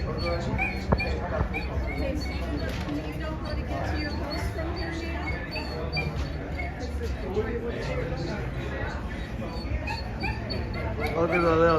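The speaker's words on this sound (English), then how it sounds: "Look at the little doggy." A small dog barks in short yips and whimpers repeatedly, close by, while people chat and other noise fills the background.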